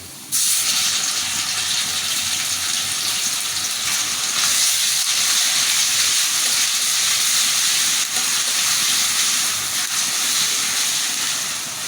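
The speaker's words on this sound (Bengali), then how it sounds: "আমি এখন আদা রসুন পেঁয়াজ বাটা দিয়ে দেবো একসাথে" Ginger, garlic and onion paste dropped into hot oil in a pan for hilsa fish with kachur mukhi: a loud, close sizzling hiss that starts abruptly and stays dense and continuous throughout.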